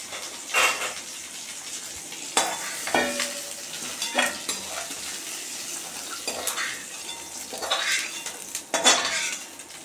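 Metal utensils scrape and clatter against a wok as fried prawns and jackfruit seeds are scraped out, in irregular bursts, with faint sizzling in between and no talking.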